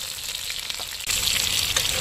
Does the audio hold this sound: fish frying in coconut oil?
yes